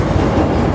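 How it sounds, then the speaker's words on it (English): A train passing close by, a loud continuous rumble with clattering wheels filling the short moment without pause. "There's the train!"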